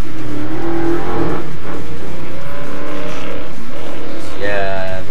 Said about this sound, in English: Yeah, motorcycle outside.